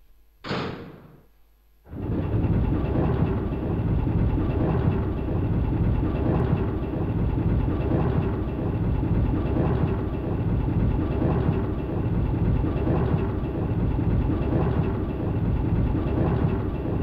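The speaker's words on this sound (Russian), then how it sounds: "Наш вагончик приехал. Прибыл." A train car from the Resident Evil Survivor video game arrives: after a short metallic burst and a pause, a steady loud rumble of rolling carriage sets in, with a faint repeating clack running through it for the rest of the clip.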